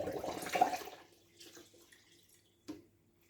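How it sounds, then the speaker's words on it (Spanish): About a litre of water is poured into a food processor already holding banana passion fruit and blackberries, a brief close splash that fades into a few faint drips and small knocks. "ahora le agregamos 1 litro de agua"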